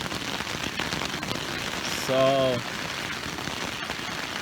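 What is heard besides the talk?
heavy rain downpour on poncho shelter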